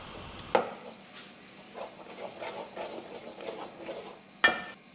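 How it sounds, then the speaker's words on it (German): Rice flour paste being stirred in a small pot over a high flame until it thickens, with soft scraping strokes against the pot, a sharp clink near the start and another near the end, no voices. "Unterständige Rühren auf hoher Flamme erhitzen, bis eine dickliche Masse entsteht."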